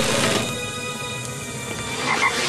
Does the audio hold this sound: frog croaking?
yes